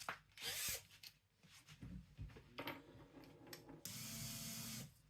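A power drill whirs in short bursts close by while shelf brackets are mounted in a small room, with a high-pitched motor whine, pauses, and a longer final run.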